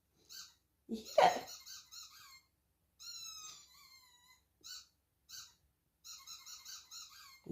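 A Parson Russell terrier chews a squeaky teddy toy, squeezing out a string of sharp, high squeaks in short bursts with gaps between, close and fairly loud, with no talk.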